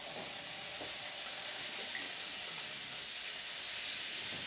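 Butter and olive oil sizzle steadily in a pan, a dense, even frying hiss that stays close and constant throughout, with no pauses and no talking.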